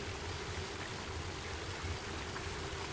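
Steady rushing water from a flowing river fills the scene, a constant close wash of current without talk or breaks.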